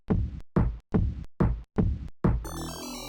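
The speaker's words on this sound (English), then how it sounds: "Cool sounds of heart beating." Heartbeat sound effect from a DOS arcade port game: five even, deep thumping beats about half a second apart, loud and close, followed by a brief burst of synthesized electronic tones.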